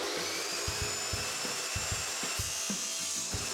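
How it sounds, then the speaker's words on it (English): A power saw cuts surplus material from a replacement bed slide rail on a Coleman Fleetwood pop-up camper, steady whine with rapid repeated cutting strokes, fairly quiet and heard alone. "we're going to go ahead and cut that extra material off"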